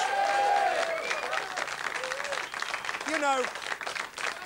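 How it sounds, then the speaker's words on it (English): A studio audience applauds during a 1995 radio talk show, steady clapping throughout with voices talking over it. "Give yourselves a round of applause."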